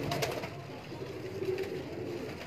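Indian pigeons at a breeder's loft in Delhi Gate, inner Lahore, give soft low cooing calls, a faint burbling murmur with no speech.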